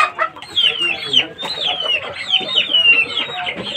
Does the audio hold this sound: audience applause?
no